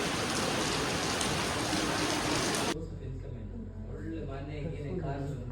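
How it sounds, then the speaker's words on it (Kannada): Rain falls, loud and dense, as a steady hiss that stops abruptly partway through, after which a person talks over a low background. "ಮಳೆ ಬಂದರೆ ಉದುರೆ ನೋಡೋಕ್ಕೆ ಏನೋ ಒಂಥರ ಚೆಂದ"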